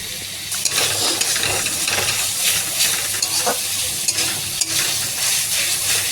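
Tomato sizzles and fries in a pan over a gas flame, a steady close crackle and hiss with occasional stirring scrapes and no voices.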